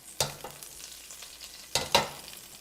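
Sesame oil and peppers sizzle in a hot pan for a shrimp stir-fry, a soft, steady hiss broken by two louder scraping bursts as the pan's contents are pushed around.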